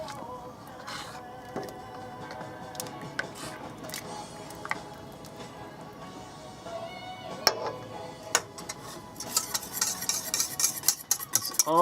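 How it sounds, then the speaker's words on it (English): Thickening razor clam chowder is stirred in a pot, with irregular wet squelches and utensil clicks growing louder and busier toward the end. "Stir it in."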